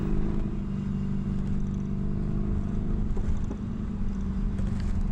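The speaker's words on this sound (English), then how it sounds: "Like all Harleys, it sounds utterly distinctive and utterly captivating." A Harley-Davidson Sportster motorcycle engine heard close with a deep, throbbing low-end rumble and a slight mechanical clatter, steady with minor swells in intensity.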